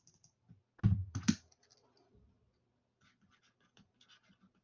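Brief scratchy clatter of writing or tapping on a keyboard, a short loud burst followed by faint scattered clicks in a quiet room.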